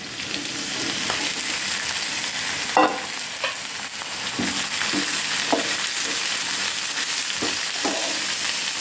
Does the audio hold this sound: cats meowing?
no